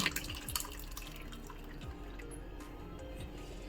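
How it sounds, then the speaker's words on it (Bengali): Whey dripping from chhana held in a cloth handkerchief, strained in a home kitchen while making bhapa sandesh; a steady stream of soft patters and small drips runs continuously for a few seconds, close and fairly quiet with no talk. "এবার আমরা খুব সাবধানে ছানাটাকে একটা রুমালের মধ্যে ছেঁকে নেব"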